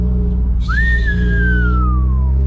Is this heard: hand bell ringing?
no